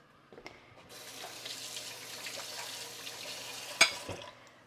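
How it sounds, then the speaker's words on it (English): A kitchen sink tap runs during washing up, a steady close splashing stream with a sharp clink of dishes near the end. No one speaks. "Oh, let me wash this up."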